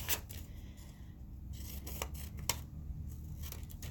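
Paper being cut with scissors to make Christmas tags, a series of quiet, crisp snips spaced irregularly over a low, soft background.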